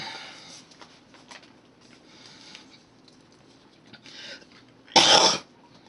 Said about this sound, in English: I've got a bit of a cough this morning.